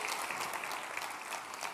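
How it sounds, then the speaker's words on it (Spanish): A church congregation applauds during a sermon, a steady wash of many hands clapping at moderate distance, fairly soft and continuous. "Denle un aplauso a Rey"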